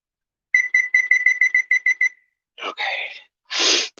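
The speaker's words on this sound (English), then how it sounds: "Timer." A kitchen timer alarm sounds in a home kitchen during baking: a quick run of about ten evenly spaced, bright electronic beeps, fairly close, followed by short breathy, rustling noises.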